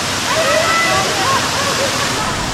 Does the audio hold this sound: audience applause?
no